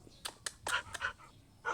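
A pet dog makes a handful of short, soft yips and whimpering sounds indoors, spaced irregularly and quiet, with little else around them.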